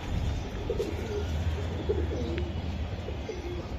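A racing pigeon from a racing club loft coos in soft, repeated low murmurs over a steady low background hum, with no talking.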